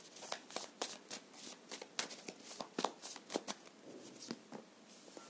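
A deck of tarot cards shuffled by hand at close range, with rapid, irregular riffling flutters and soft slaps coming in quick bursts throughout, fairly quiet and with no voices.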